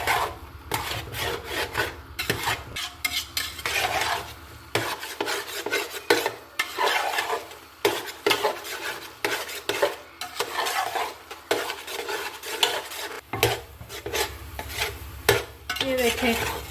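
Grated carrot halwa being roasted in a pot, the spoon scraping and rubbing against the metal in quick repeated strokes over a low sizzle, loud and close throughout with no speech.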